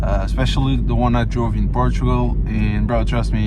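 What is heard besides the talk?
None of the usual background noises is heard.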